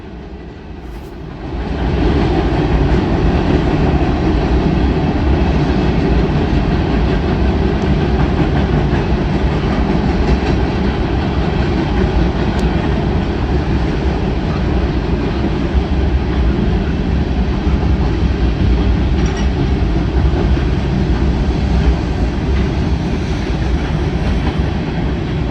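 Freight train locomotives throttling up to full power, a loud, steady, broadband diesel roar rising after about two seconds and holding unbroken for the rest of the stretch, with faint rail clatter beneath.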